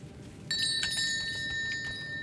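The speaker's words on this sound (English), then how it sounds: "Bell." A bell rings in the video game Elden Ring, entering at half a second with sharp, sustained metallic tones that hang steadily over a low background rumble until the end.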